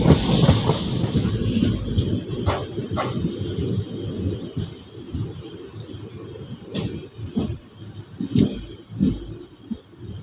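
A passenger train on the Mettur Dam to Salem line departs a small single-platform station, rolling along with a continuous low rumble, punctuated by occasional clanks and squeals from the wheels and cars.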